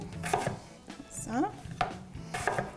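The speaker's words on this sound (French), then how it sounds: "Donc, je vais les couper en quartiers." Sharp knife strokes quartering potatoes on a cutting board, a few distinct chops spaced out over under three seconds, close and crisp, with a brief word spoken between them.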